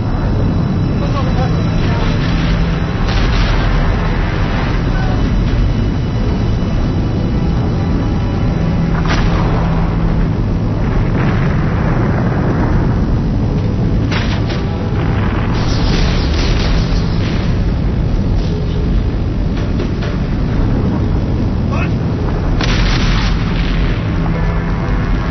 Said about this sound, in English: the Christmas bombing campaign, a renewal of Operation Linebacker using B-52 bombers